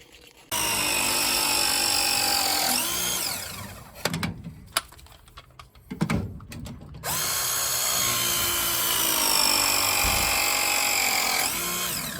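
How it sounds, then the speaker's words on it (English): A Milwaukee M12 power tool runs in two long, loud whirring bursts with a brief pitch dip, separated by a quieter stretch of clanks and handling noise during a main water valve repair. "The Milwaukee M12 for the win."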